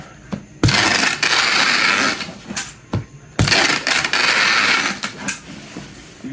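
Packing tape pulled off a roll and pressed along the seams of a cardboard box, heard as loud, continuous ripping screeches broken by short pauses and sharp taps close by.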